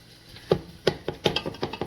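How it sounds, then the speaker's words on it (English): Taco fillings are chopped on a cutting board in a series of crisp knife strikes, about six fairly even, quick hits close to the mic in a quiet kitchen. "I'm chopping it up nice and quick"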